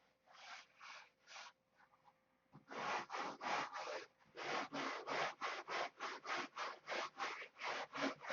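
Wood is sanded by hand in steady back-and-forth strokes, a close, dry rasp repeating in even rhythm after a few slower opening passes, with no talking.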